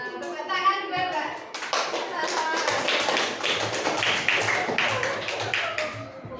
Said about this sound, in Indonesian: Ya, tepuk tangan Bapak.